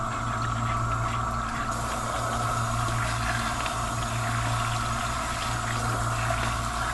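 Steady running water rinses shampoo out of a woman's hair at a salon, a constant hiss and splash with a low hum underneath and no talking.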